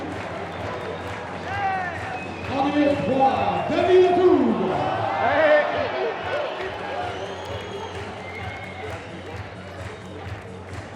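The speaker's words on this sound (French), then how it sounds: "Applaudissements, merci beaucoup." Crowd applauding and cheering as rugby players are introduced at a professional match, a steady wash of clapping and shouts in a large venue while an announcer speaks over the noise.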